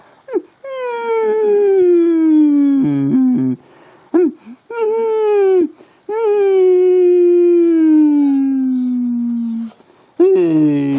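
A dog howls in long, drawn-out wails that slide downward, broken by short whimpers and yips, very close and loud, filling most of the eleven seconds.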